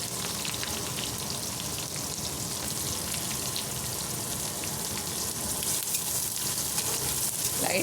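Onions and curry leaves frying in hot oil with cumin, a steady dense crackling sizzle with no pauses. It stays close and fairly loud throughout and swells slightly toward the end.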